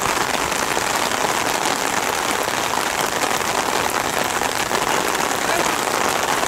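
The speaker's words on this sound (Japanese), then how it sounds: "この雨分かります？" Steady rain pours during an outdoor athletics practice on a rainy day, a dense, even hiss that stays loud and constant throughout with no clear voices.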